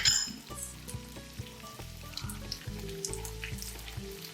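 Potato slices for tortilla de patatas sizzle and fry steadily in a pan, with close crackling oil and occasional light clinks of a utensil against the pan throughout.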